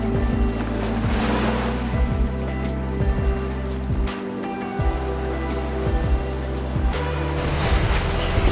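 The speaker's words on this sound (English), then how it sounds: "The tide is pretty high today, a lot higher than normal, and there's actually quite a lot of waves as well." High-tide sea waves at a Barcelona beach, a steady, fairly loud wash of surf with a few brief swells, mixed with a continuous low tonal hum.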